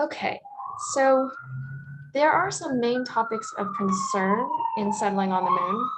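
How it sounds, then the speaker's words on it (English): A siren passes outside with a long, rising and falling wail that is heard faintly beneath a person giving a lecture. "Sorry about the siren."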